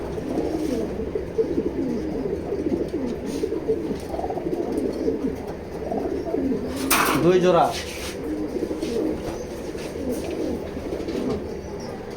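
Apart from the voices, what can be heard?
grizzle pigeons cooing in a loft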